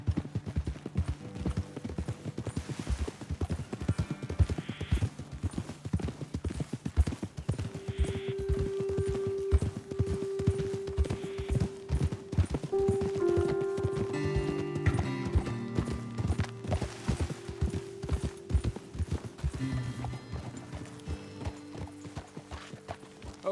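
Horse hooves clip-clop steadily on the ground in Red Dead Redemption 2, several horses ridden at a walk, close and rhythmic throughout, with faint tonal game music and an occasional whinny, no talk.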